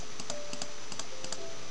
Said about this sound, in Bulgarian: Защо ми цъкате мишката, бе?